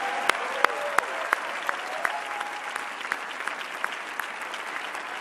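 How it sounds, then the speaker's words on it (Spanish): Sustained crowd applause at the 2016 Latin Grammy ceremony, a dense wash of clapping with a few sharp individual claps standing out, steady and fairly near throughout. "uando escucho a personas como Nahuel Penisi, quiero pedir otro aplauso para él, por favor."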